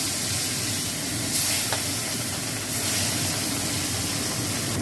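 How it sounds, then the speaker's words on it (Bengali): Fish sizzles in hot oil for a Bengali dudh katla recipe, a dense, continuous hiss, close and fairly loud, steady throughout with a few slight swells. "এরকম করে আমি এই মাছগুলোও ভেজে নেবো"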